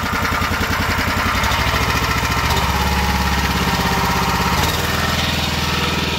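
Small gas engine on a roll-off dumpster trailer sits in grass, cranks over and settles into a loud, steady, close running chug, changing pitch once or twice as it runs.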